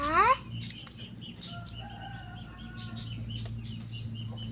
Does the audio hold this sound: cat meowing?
no